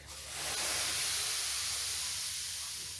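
A steam iron gives a steady, broad hiss of steam that rises quickly and holds for a few seconds while pressing canvas, close by, with a low hum underneath and no speech.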